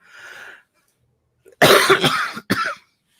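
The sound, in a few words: cough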